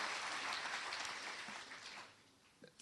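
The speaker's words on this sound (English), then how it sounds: "Let's give him one wonderful round of applause." A ceremony audience at a remembrance event gives a round of applause, a quiet, distant wash of clapping that gradually thins out toward the end.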